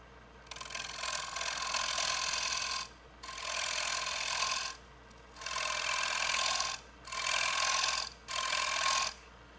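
Pithy wood being trimmed on a lathe, a bowl bottom under the tool: four long raspy cutting passes separated by brief pauses, close and steady over a low motor hum.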